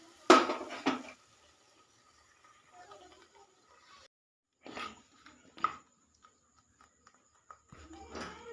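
Kalanchi fish curry stirred in a pot, heard as a few sharp spoon-on-metal clanks in short bursts separated by long quiet stretches, fairly close.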